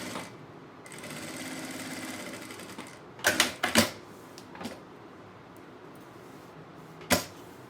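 A sewing machine stitches strips of purple, blue and yellow fabric for a braided bag, running in a steady whirring burst before a few sharp clicks and knocks from handling the machine.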